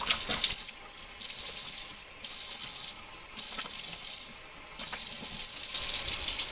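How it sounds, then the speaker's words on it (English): Tap water runs into a new, unused hot sauce bottle as it is rinsed out, in bursts of splashing flow broken by brief pauses, steady and close. "And then we'll just rinse that out."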